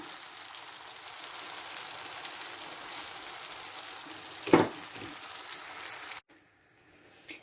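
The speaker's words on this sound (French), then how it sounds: "les quartiers de pommes sont déjà cuits. Et vous voyez, ça caramélise." Apple quarters caramelizing in a frying pan make a soft continuous sizzle, broken by one sharp knock or clatter before the sound cuts to near silence; no talking.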